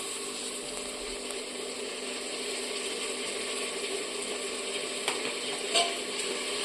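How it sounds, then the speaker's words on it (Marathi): Ginger garlic paste sizzles as it goes into browned onions in a pressure cooker for biryani, a steady close hiss of frying oil with a faint scrape near the end and no voices. "त्याच्यामध्ये आपण टाकूया अद्रक लसूणची पेस्ट"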